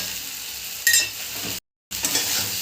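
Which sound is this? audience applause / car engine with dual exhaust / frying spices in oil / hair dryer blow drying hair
frying spices in oil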